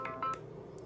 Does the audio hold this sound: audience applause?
no